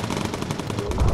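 Turret machine guns on an Avro Lancaster bomber rattle off rapid, evenly spaced bursts in the video game Bomber Crew, loud and close, ending in a heavier low rumble.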